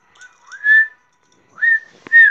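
A person whistles a few short rising and falling notes, near and fairly loud, in three separate bursts with quiet gaps between them and no talking.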